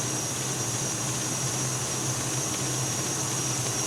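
A KitchenAid stand mixer with the paddle attachment runs steadily, a continuous whirring motor hum with no breaks, loud and close throughout.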